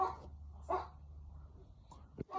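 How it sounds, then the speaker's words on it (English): Dogs bark a few scattered times in the distance, faint against a low steady background rumble, with no one speaking. "dogs are barking"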